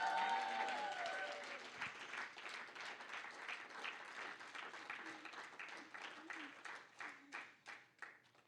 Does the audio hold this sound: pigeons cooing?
no